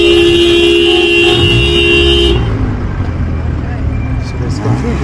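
A car horn toots in a congested street in Chongwe town, Zambia, as vehicles squeeze through one passage, a loud sustained blare over engine and traffic rumble that cuts off partway through.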